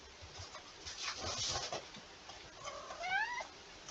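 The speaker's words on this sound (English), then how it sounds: "Oh, my cat's here." A house cat meows once or twice indoors, a short rising harmonic call near the end, moderately close over faint room noise.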